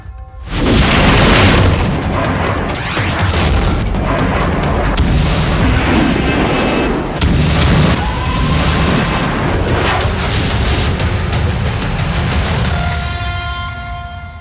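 Heavy booming missile and bomb blasts in a Middle East war roll one after another, deep and loud, with sharp cracks and rumbling echoes filling the air and no voices.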